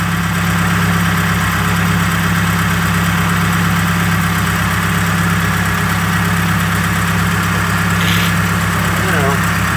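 A truck engine idles smoothly at close range, a steady low drone with constant vibration, while a person talks over it.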